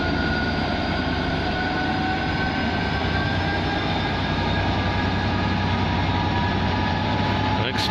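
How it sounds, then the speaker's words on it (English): Trains at Peterborough railway station, a loud continuous rumble and hum with steady tonal whine from passing rolling stock, filling the whole span at close range. "The delights of Peterborough train station."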